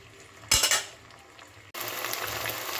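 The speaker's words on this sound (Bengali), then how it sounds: "আদা আর কাঁচা লঙ্কাটা দিয়ে আমি দু থেকে তিন মিনিট একটু মশলাটা কষিয়ে নেব" Ginger and green chili paste masala frying in a pan, a loud metallic clatter and burst of sizzling, then a brief lull before a steady, dense sizzle resumes close by.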